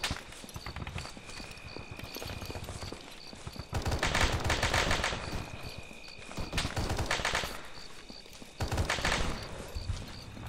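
Gunfire in the military video game Arma 3 comes in several bursts of clattering shots during an assault on an armoured vehicle, with quieter stretches of ambient noise between them.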